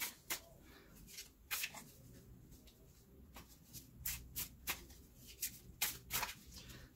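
A deck of oracle cards is shuffled and cut at close range, with a string of quiet, crisp riffles and taps scattered irregularly over a soft background.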